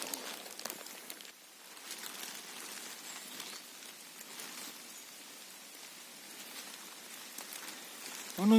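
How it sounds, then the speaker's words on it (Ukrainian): Light rain patters steadily on leaves and the forest floor during a summer mushroom hunt in the woods, a soft, even hiss with scattered faint drop ticks and no talking. "Але ще так дощик."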